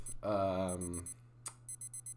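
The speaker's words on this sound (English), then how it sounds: "I'm gonna turn off this alarm because it's annoying the hell out of me" In the video game Doki Doki: World of Dreams, a phone alarm rings with repeated short electronic beeps in quick bursts near the end, after a brief sung or voiced tone at the start.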